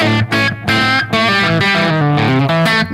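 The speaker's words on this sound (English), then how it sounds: "I do have a little echo on here just to make it sound like I'm not sitting in a dead office" Electric guitar played through a UA tape echo pedal, with bright distorted chords and single notes that ring out with a light echo tail. The guitar is loud and close, with no talking.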